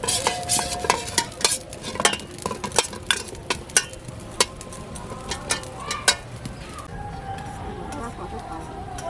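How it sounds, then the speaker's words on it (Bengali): Glycerin melting on a lit stove while being stirred for homemade turmeric and milk soap, with repeated clinks and scrapes of a utensil against the pot over a low background hiss; voices talk in the background. "উনুন ধরে নিয়েছি, এবার আমি গ্লিসারিনটাকে গলে নেব"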